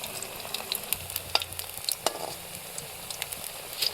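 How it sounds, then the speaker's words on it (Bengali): Flattened shrimp pakoras fry in hot oil over a low flame, giving a steady close sizzle with scattered crackles and pops throughout. "চ্যাপ্টা আকারে শেপ দিয়ে ভেজে নিচ্ছি"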